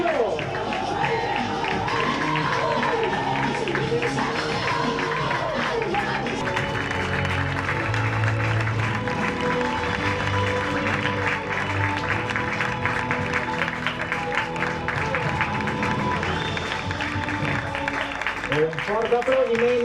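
A crowd claps at an awards presentation after a Catalan championship final, a lively wash of applause with voices talking over it throughout.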